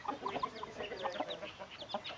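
A broody hen clucks softly among her chicks, with scattered short clucks and thin peeps overlapping at close range over a quiet background, and no one speaking.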